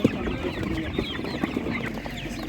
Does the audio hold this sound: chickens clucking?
yes